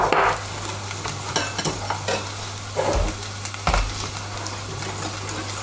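Cornstarch being mixed into blanched egg yolks and sugar in a bowl for crème diplomate, a steady run of scraping, stirring strokes with a few sharper clicks, close and moderately quiet, with no talking.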